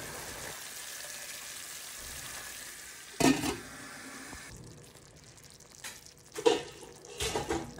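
Pork and string beans cook in a pan with a soft, steady sizzle, broken by a few louder clatters and stirring knocks.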